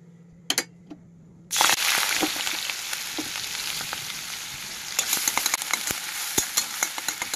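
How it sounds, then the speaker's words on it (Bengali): Onions hit hot mustard oil in a pan, kicking off a loud, steady sizzle after a brief quiet start, with scattered stirring scrapes and crackles running throughout. "তেল গরম হয়ে গেছে, এবারে পেঁয়াজটা দিয়ে দেবো"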